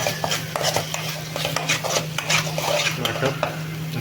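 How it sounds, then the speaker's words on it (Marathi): Ground masala paste fries in a pan while a spoon scrapes and clinks against the metal in irregular strokes over a steady low hum, close and moderately loud. "आपण वाटप टाकून घेतलं थोडं वाटप फ्राय व्हायला देऊया आता छान भाजून घेऊ"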